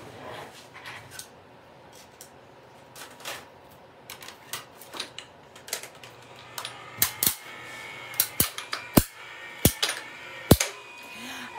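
Paper seed packets snipped out with scissors, the cutting starting soft and sparse, then turning into sharp, close snips in a quick irregular run over the last several seconds, with faint low background noise.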